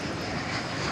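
An American Airlines Airbus A321 airliner at DFW Airport at night gives a steady, continuous broadband engine roar, fairly close and alone, with no talk.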